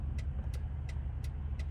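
A vehicle hauling a rusted car on its back pulls away, giving a low steady engine drone with faint repeated high hisses or clicks at even intervals over the short stretch.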